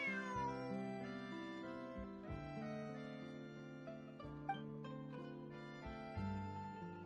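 A cat meows in the video game Genshin Impact, with quiet, repeated tonal meows over a soft, sustained musical background and no talking.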